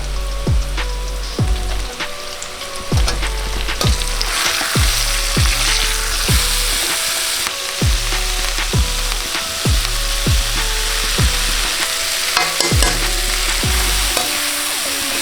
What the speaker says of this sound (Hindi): 5-7 मिनट कुक करके उसमें प्याज डाल दो।